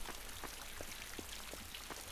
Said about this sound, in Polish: Musi teraz lać ten deszcz pojebany.